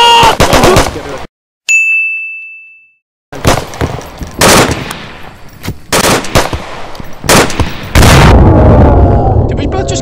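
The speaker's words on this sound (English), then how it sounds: "We both just got fucking grenaded." A grenade goes off in Onward VR hostage mode amid sharp bursts of gunfire, loud close cracks and booms broken by a brief silence and a ringing tone.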